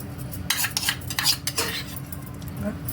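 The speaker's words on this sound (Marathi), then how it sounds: "आता आपण 4 चमचे तूप सगळे घालून घ्यायचे" Metal spoon clinks and scrapes against a heating kadhai as ghee is added for besan laddoos, a few sharp taps and stirring sounds in a quiet kitchen with no talk.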